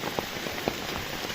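Rain falling on a surface in a village during the monsoon paddy-planting season, a dense steady patter with a few louder drops standing out.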